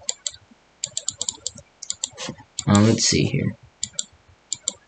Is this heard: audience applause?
no